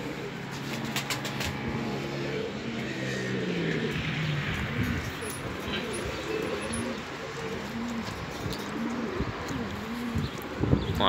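Kirkuki pigeons coo steadily in repeated low, throaty phrases, close and continuous over a faint outdoor background, with occasional brief higher chirps from other birds.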